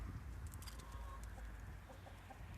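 Chickens clucking softly at a distance over a low rumble of background noise, with scattered short calls.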